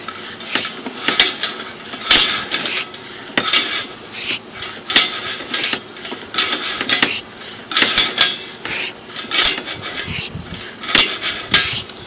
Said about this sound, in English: that's what it sounds like when we're going through the stack up top